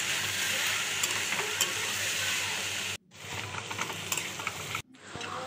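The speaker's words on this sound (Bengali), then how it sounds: "এবার আবার ঢাকনাটা খুলে আবার একটু নেড়ে চেড়ে নেব" Soybean pasta sizzles in a pan while a spoon stirs and scrapes through it, steady frying hiss interrupted by two sharp breaks where the lid is lifted and set down.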